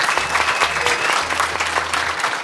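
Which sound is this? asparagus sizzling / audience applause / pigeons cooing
audience applause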